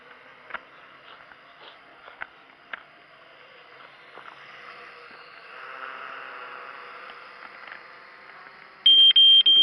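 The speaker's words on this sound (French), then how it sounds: "Vous avez entendu le bip de la batterie de la télécommande?" A short burst of high electronic low-battery beeps from a Traxxas LaTrax Alias drone's remote control near the end, following soft handling clicks and a low background hum.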